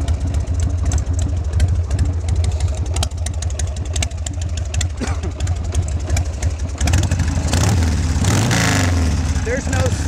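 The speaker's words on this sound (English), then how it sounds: "I always love how these Sportsters sound with the drag pipes." A Harley-Davidson Sportster 1200 fitted with drag pipes and needing a tune-up rumbles loudly and close, its engine running continuously with a surge in revs toward the end.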